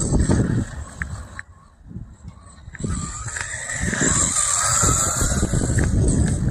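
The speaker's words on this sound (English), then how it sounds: "Pretty quick little buggy." A 1/14 scale RLAARLO RC buggy runs with a brushed motor, giving a high whining electric buzz that fades briefly and then builds to a sustained, louder whine as it speeds away and returns, with faint gravelly rolling underneath.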